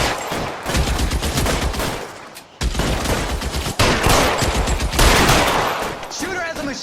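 Machine gun fire in L.A. Noire, loud rapid bursts of automatic shots in quick succession, broken by a brief pause, then resuming with heavy volleys and some voices mixed in.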